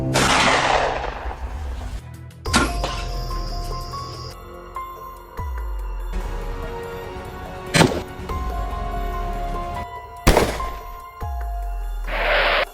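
Hunting rifle shots are fired at wild boars, with a few sharp, loud reports spaced several seconds apart, each followed by a brief echoing decay over ambient outdoor noise.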